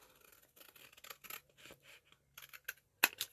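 Close, quiet scissors snip and slide through paper or card along a line in a series of short crisp cuts, with a sharp click near the end.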